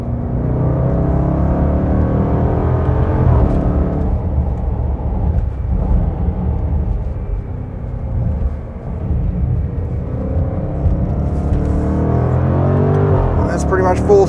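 A supercharged V8 engine in a 2020 Range Rover Velar SVAutobiography roars steadily under full-throttle acceleration, a deep continuous rumble that holds loud throughout with slight rises and dips.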